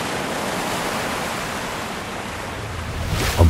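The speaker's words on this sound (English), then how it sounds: "The wood of the boat groans over the incessant splashing of the waves." Ocean waves splash steadily against a wooden fishing boat out at sea, a continuous loud wash of surf with a heavier surge at the end.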